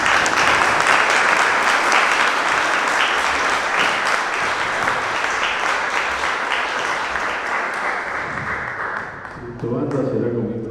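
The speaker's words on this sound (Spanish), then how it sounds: "Le damos un fuerte aplauso y bienvenido." An audience applauds loudly and steadily at a political event in Santa Fe honoring a former gubernatorial candidate, dense clapping that slowly thins toward the end as a voice begins speaking.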